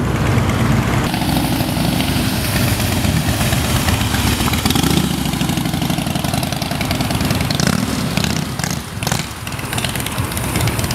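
A beige motorcycle idles alongside other vehicles at a garage gathering, its low steady engine rumble running continuously and fairly loud throughout, with a brief dip near the end.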